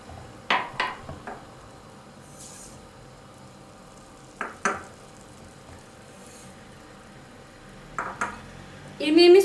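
A spoon stirring milk, sugar, semolina and cocoa in a pot, with a few scattered scrapes and clinks against the metal, quiet and spaced apart over a low hiss.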